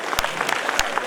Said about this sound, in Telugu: మీరందరూ కూడా చప్పట్లు కొట్టాలి